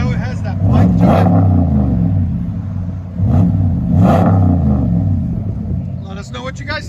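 A RAM 1500 with a 5.7L HEMI V8, Flowmaster Super 10 exhaust, two resonator deletes and 5-inch tips, revving loudly in two long swells with a deep, biting rumble, and a voice briefly speaking near the end.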